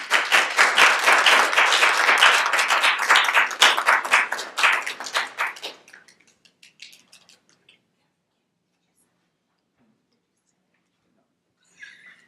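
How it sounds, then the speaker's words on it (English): Applause for Ms. Jones at a psychology board meeting: a room full of steady, dense clapping that carries on for about five seconds, then thins into a few scattered claps and fades to near silence. "So let's have a round of applause for Ms. Jones."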